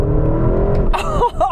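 Porsche Cayenne Turbo GT engine accelerating hard at full throttle, a loud, close, steady engine roar with a rising pitch that ends in a brief shift-like dip before it pulls again.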